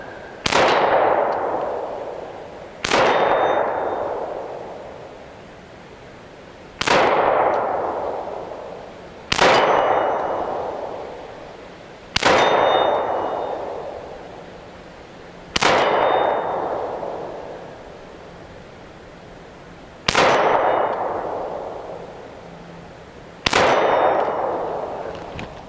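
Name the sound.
Ruger P95 9mm pistol shots ringing steel targets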